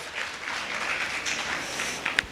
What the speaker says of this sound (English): why don't you clap your hands just for this watershed event